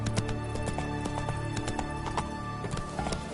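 Horse hooves clip-clopping at a steady rhythm in The Witcher 3, close and continuous under a bed of game music and ambience.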